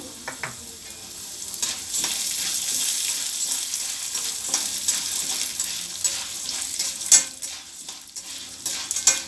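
Drumstick leaves being dry-roasted in a pan, a near, steady crackle with frequent scraping stirs and occasional sharp utensil clicks, no talking.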